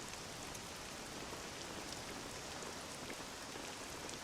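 Steady rain falls in Dragon Quest VII Reimagined, a constant hiss of drops hitting surfaces with no pause, soft and even throughout, with no voices.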